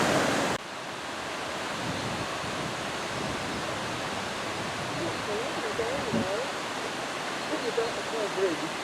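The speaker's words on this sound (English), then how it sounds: "that's the River Laxey coming down through this little part of the gorge" The River Laxey rushes down through a small gorge on the Isle of Man, a dense, loud, continuous roar of flowing water, with a person talking faintly over it.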